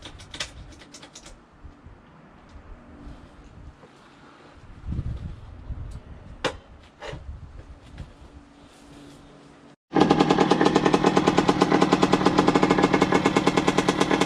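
After a stretch of quiet outdoor noise and a few clicks, the two-stroke engine of a 1990 Yamaha YZ80 dirt bike suddenly starts and runs loud, smoky and steady with a fast, buzzing pulse.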